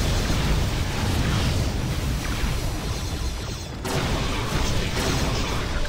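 A loud, sustained rumbling blast fills the whole clip, dense and roaring like a video-game explosion, from the space game Star Trek Armada III, with a brief dip before the roar swells again.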